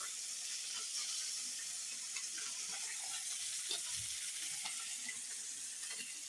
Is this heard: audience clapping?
no